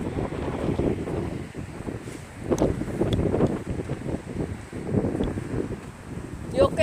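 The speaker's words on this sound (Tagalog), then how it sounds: "Naririnig niyo naman yung ano ng hangin." Strong wind buffets the camera microphone outdoors on an overcast, cold day, a continuous rumbling roar that swells and eases in gusts, with faint voices underneath.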